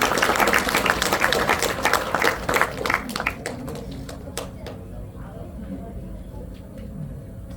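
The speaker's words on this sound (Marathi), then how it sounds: "परत एकदा मोरे दादांसाठी जोरदार टाळ्या वाजवा" Audience at an Ambedkar Jayanti celebration in a clubhouse applauds More Dada, brisk clapping that is strong at first, then thins to a few scattered claps and fades out.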